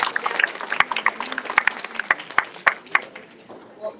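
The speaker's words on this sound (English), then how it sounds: "Let's have another round of applause for our speakers." An evening lecture-series audience claps for the speakers. The applause is a scattered, fairly thin patter of individual claps that fades out over a few seconds.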